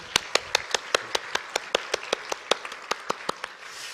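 Easter service congregation claps in thanks to God, heard as a steady rhythmic beat of sharp, evenly spaced claps about five per second over a soft background wash, fading slightly at the end.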